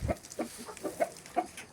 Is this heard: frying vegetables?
no